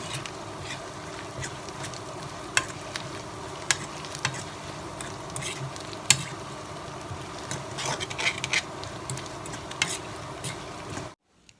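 Chilies deep-frying in oil until crispy, giving a steady, quiet bubbling sizzle with faint scattered crackles and pops throughout, no voices, ending abruptly.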